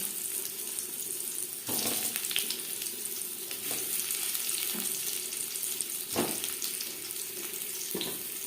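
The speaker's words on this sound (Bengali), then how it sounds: "এবার আমি আলু ভেজে নেব।" Peeled boiled potatoes frying in a pan for a chicken curry, a steady close sizzle with occasional louder scrapes and clatter from stirring, no talking.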